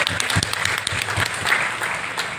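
An audience applauding at a product launch event, a sustained, fairly close burst of many hands clapping with a faint voice underneath.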